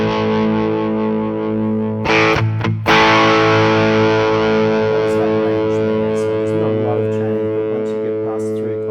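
A heavily distorted electric guitar chord through a Behringer OD300 pedal in distortion mode rings out and sustains, with a brief burst of strummed attacks partway through, loud and saturated.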